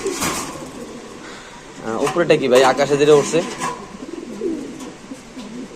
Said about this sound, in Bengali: আট নাম্বার কবুতরের খাঁচা এখানে দুই জোড়া কবুতর আছে